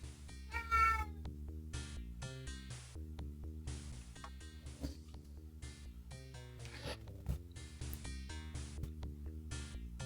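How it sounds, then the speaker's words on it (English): A cat meows loudly near the start over a busy background of steady tonal music from the Sega Genesis game Shadowrun, with faint repeated mews after. "Stop meowing at me."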